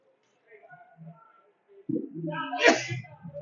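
A single sharp sneeze bursts out near the close, amid soft voices and murmurs in a hockey broadcast booth during a game.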